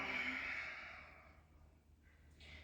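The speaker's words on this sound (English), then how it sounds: "Deep breath in. Long exhale out." A long, slow exhale of breath during a core yoga flow, airy and close, fading gradually over a couple of seconds with nothing else around it.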